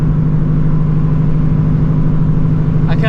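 A 900-horsepower Shelby GT350 with a built transmission roars at high revs in a loud, steady drone, its tires breaking loose under hard power. A brief rising whine comes in near the end.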